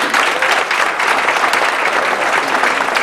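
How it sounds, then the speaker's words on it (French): An assembled crowd at a community event in Gonaïves applauds Madame Bertrand, a dense, even burst of clapping that holds steady throughout. "Applaudissez Madame Bertrand"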